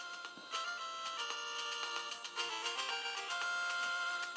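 Chiptune-style game music plays with a warbly, gargled distortion, steady bright tones and rapid blips continuing throughout at moderate level, no voices.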